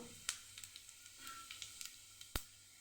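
Cumin seeds sizzle quietly in hot oil in a pan, a soft steady hiss broken by a few sharp crackles and pops, with one louder snap near the end.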